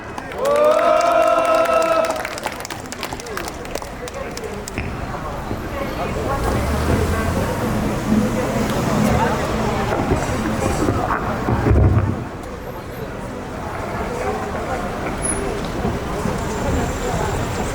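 Outdoor crowd at a construction workers' rally near Suwon Station applauding a singer, a steady wash of clapping and cheers with wind noise on the microphone and an announcer talking over it.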